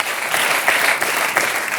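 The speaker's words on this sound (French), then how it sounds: "J'applaudis, franchement." Studio audience applause on a French television talk show, a dense steady clapping of many hands that stays loud and close for about two seconds, with no talk on top.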